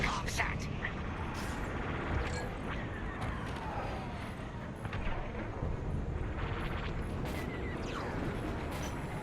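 Blaster fire and explosions rumble steadily in Star Wars: Squadrons as TIE fighters attack the comm set. Scattered sharp zaps sound over a constant roar, and radio voices talk over the combat.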